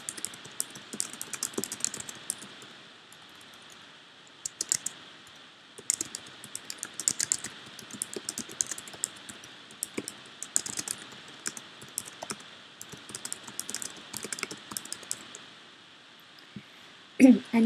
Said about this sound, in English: You type in some